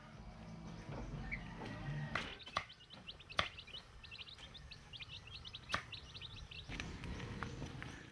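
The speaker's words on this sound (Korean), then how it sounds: "메리타가 부르는 소리에 병아리 떼들이 한꺼번에 몰려든다" A flock of chicks crowding in at a remote rural farmstead, rapid high peeping and chirping in bursts over outdoor ambience, with several sharp knocks or taps scattered through and no speech.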